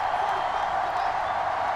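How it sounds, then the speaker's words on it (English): A stadium crowd at an NFL game between the Las Vegas Raiders and Indianapolis Colts roars as a steady, dense wash of cheering noise with no distinct peaks. "Here comes a big one as this crowd gets up making some noise."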